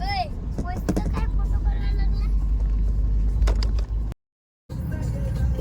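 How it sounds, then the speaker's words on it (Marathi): Cars idle and creep forward in a road traffic jam, a steady low engine rumble running throughout beneath people talking, with a brief cut-out near the end. "वरवरच्या गाड्या दिसतील तुम्हाला. ट्रॅफिक जाम आहे."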